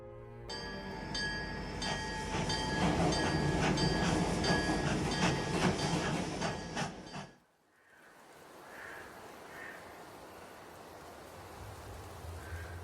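A train rumbles and clatters steadily in the Dark Tales video game, loud and continuous for several seconds before cutting off abruptly, followed by quieter ambient noise with faint tones.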